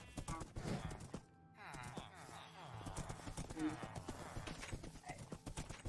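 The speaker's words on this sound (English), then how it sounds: "I'm going to put this horse in the stable." Rhythmic clip-clop of horse hooves in Minecraft at a steady walking pace, fairly close, with brief neighing and background game music.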